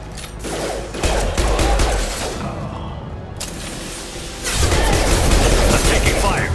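Combat gunfire in Mass Effect Legendary Edition: rapid bursts of weapon fire and booming impacts, loud and close, with a brief lull before a heavy renewed barrage, voices talking under the shooting.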